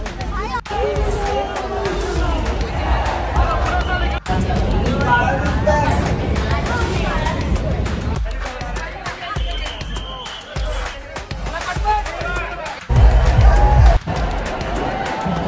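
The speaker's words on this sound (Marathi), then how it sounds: "भरपूर गर्दी आहे, भरपूर गर्दी आहे।" Large crowd at the Chintamani arrival procession in 2024, a dense, loud, continuous hubbub of many voices with scattered thumps and shouts nearby, and someone talking over it.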